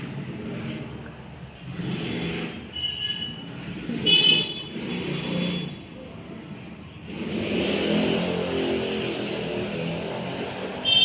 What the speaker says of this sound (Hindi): आपको ट्रैफिक की बहुत ज़्यादा मतलब वॉइस आ रही होगी